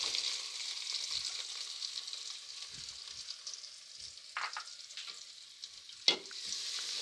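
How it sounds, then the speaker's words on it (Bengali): Chopped onion sizzling and being stirred into a mashed potato mixture for Bangladeshi alu ghati, a steady soft frying hiss broken by a few scraping stirs, one sharper clack near the end, no talking. "পেঁয়াজ কুচি দিয়ে আবারও নেড়ে নেব।"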